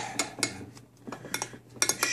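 A spoon stirs strawberry pancake batter in a bowl, giving a series of clinks and scrapes against the bowl's sides in an uneven rhythm with a brief lull midway, close and clear with no talking.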